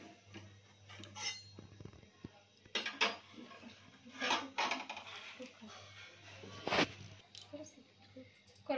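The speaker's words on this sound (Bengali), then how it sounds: "এই যে কড়াই দিয়ে দিচ্ছি" A metal wok set on a kitchen stove gives several scattered clanks and clinks of metal on metal, close and sharp, with quiet talk between the knocks and a low steady hum underneath.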